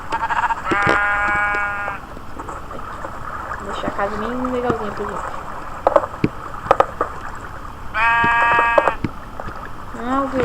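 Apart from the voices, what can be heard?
sheep bleating in a video game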